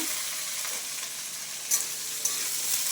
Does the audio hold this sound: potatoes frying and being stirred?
yes